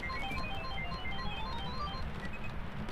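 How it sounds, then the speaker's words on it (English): A phone rings inside the Phasmophobia ghost-hunting game, a quiet repeating electronic tone pattern over a low background rumble, with no voices. "This phone is ringing."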